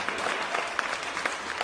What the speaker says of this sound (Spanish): Un fuerte aplauso, mi queridísimo